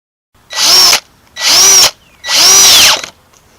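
A power drill drives screws into a 2x4 wooden trellis in three loud, close whirring bursts, each lasting about half a second to a second, separated by short pauses.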